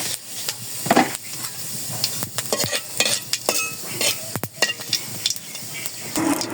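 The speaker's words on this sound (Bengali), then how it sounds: "জিরা ফোড়ন দিয়ে দিলাম।" Cumin seeds temper in hot oil in a home kitchen pan, crackling and sizzling under a busy run of sharp scrapes and clinks from stirring, with several louder bursts throughout and no talk.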